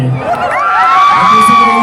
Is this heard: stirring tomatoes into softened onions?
no